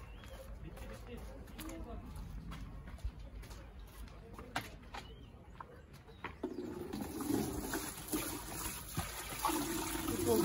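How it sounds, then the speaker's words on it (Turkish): Water pours into a container outdoors in a village during a goat butchering, a steady rushing fill that grows louder and fuller in the second half, with birds and voices in the background. "Su dolduruyorum arkadaşlar"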